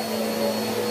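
A household vacuum cleaner drones steadily in the background of a room, a continuous even whine with no pauses throughout.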